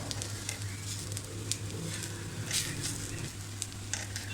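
Grated coconut roasts in a hot pan for a Malvani-style black-eyed bean and potato curry, giving a continuous close sizzle and crackle with small spitting pops and a low steady hum beneath.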